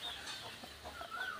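Native hens inside a chicken house give soft, scattered clucks and a few higher calls, faint against a quiet room.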